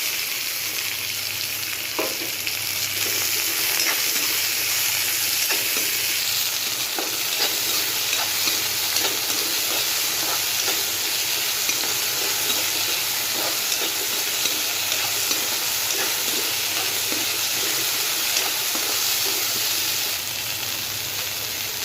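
Vegetables frying in a mustard seed and urad dal tempering for vegetable semiya upma give a dense, even sizzle that runs without pause, with faint stirring ticks and no voices.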